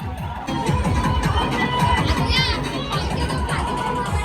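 Dense crowd at the Sukadar village fair near Dapoli-Khed, a loud continuous hubbub of many voices including children, with a close beating rhythmic drum pattern underneath.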